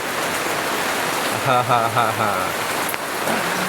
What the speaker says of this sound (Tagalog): Lakas ng bagsak ng ulan.